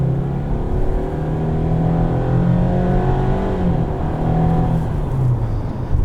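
A 2021 Subaru Impreza engine in sport mode revs steadily upward toward redline, a loud continuous drone heard from inside the car with rising harmonic pitch and no talk.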